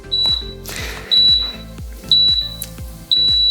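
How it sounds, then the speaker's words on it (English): A workout timer counts down with four evenly spaced electronic beeps, one about every second. Each beep is bright and sustained, and a rhythmic low thumping pulse plays beneath them. "I'm going to hit 10 seconds on my timer for the countdown"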